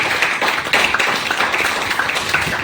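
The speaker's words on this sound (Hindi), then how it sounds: "ताजमहल बनके जोरदार तालियां होनी चाहिए" An audience at a direct selling training session bursts into loud applause, dense rapid clapping that stays steady and close throughout with no talk over it.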